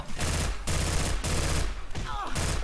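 Sustained, loud gunfire from the video game Left 4 Dead 2 comes in several long rapid bursts separated by brief gaps, close and heavy.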